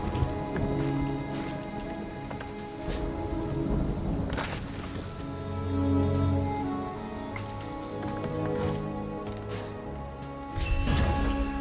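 Steady rain with rumbles of thunder fills the opening scene of the video game Ori 2, a dense, continuous downpour with swelling rolls of thunder and no voices.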